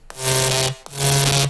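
A rhythmic main bass from a Serum synth patch with heavy processing plays two sustained, gritty notes with a bright, noisy top, loud and close, separated by a brief gap.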